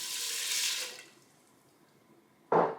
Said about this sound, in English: To this I'm gonna add water